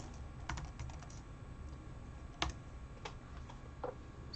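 Keys on a computer keyboard clack in a few sparse, separate taps and short bursts while Cantonese characters are entered, close and fairly quiet over a low steady room hum.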